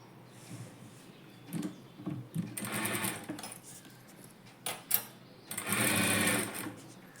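Domestic sewing machine stitching a folded fabric lining seam for a puff sleeve, heard in several short whirring bursts of varied length with quiet pauses between them, the last burst longest and loudest.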